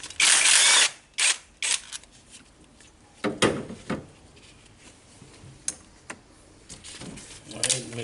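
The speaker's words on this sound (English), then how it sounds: "Alright, so we're gonna remove these nuts and bolts" A ratchet loosens the nuts and bolts on a cover of a 2006 Toyota Hilux that has lost power and burns extra diesel and oil. It gives short bursts of rapid metallic clicking, loud at first and then fainter and more scattered.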